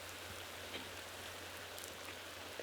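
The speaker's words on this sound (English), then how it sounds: "especially with the rain kicking in right now" Steady rain falling outdoors on a disc golf course, a soft even hiss of drops with a few faint patters, distant and quiet, no voices.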